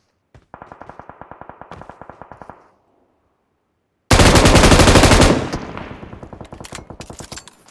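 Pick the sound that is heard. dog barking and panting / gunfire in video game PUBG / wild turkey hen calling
gunfire in video game PUBG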